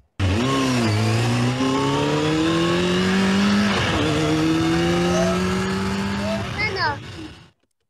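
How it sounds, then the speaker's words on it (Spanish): A motorcycle engine played from a recording, revving steadily with rising pitch over about seven seconds, loud and continuous, with a brief swell near the middle and a fade at the end. "Vamos con la moto, a ver cómo suena esa moto."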